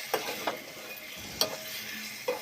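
Pieces of bangaru teega fish frying in oil, a soft steady sizzle broken by a few sharp clinks and scrapes from stirring, fairly quiet and close.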